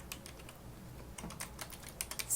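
Someone typing Java code on a computer keyboard, a quiet run of quick, uneven key clicks growing a little louder and faster toward the end, with no talk.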